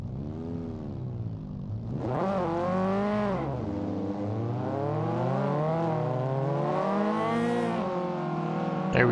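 Race cars in the Assetto Corsa video game accelerate hard away from a rolling start on a touge mountain road, engines revving up through the gears loudly and continuously with rising pitch sweeps and a brief squeal near the end.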